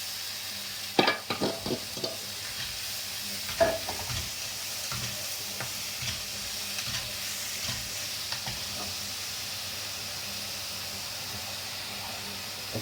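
Oil sizzles steadily in a pan as onions fry in a tempering, with a few stirring scrapes and clatters early on.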